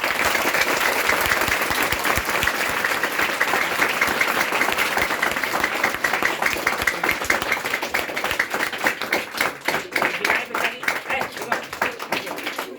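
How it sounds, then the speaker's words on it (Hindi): Listeners at a Hindi talk on mindset clap together. Dense, even applause in the first half thins out into sharper, separate hand claps that fade gradually toward the end. "चलो अपने लिए क्लैपिंग करो कि इतना 3 चीज सीख गए"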